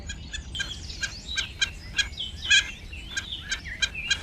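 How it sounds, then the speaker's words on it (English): Repeated wild duck calls echo from a forest at a moderate distance, a series of short bright chirps spaced irregularly over a low rumbling background. "About a week later, Yugi heard a strange call echoing from the forest."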